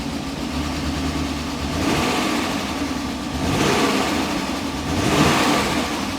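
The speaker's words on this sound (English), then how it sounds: "I can't believe it's running. It's got some lifter tickage." A 1998 BMW 740iL engine runs steadily nearby on its first start after sitting since 2013, rising and falling in a few gentle revs, with a faint rapid lifter tick under the rumble.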